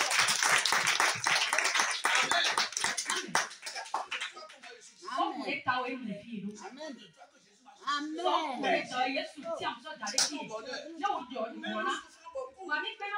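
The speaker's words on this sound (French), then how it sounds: "applaudissez pour nous." Brief burst of loud applause and clapping from a church congregation during a sermon, filling the first few seconds before fading into a speaking voice that carries on alone.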